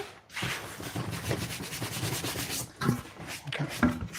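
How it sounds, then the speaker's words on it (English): A cloth wipes a wet surface clean in a workshop, giving a steady rubbing swish of repeated strokes up close, with a couple of small squeaks near the end. "We need to wipe that off."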